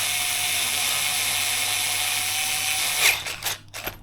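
A screw on a forward motor mount for a Traxxas Sledge RC truck is driven with a steady, close, buzzing mechanical whir, then ends in a few sharp, uneven clicks and clatters, with no voices.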